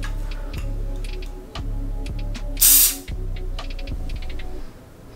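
A Goose Creek Carnival Apple room spray can fires one loud, close hissing burst, surrounded by quiet ticking and small clicks before and after.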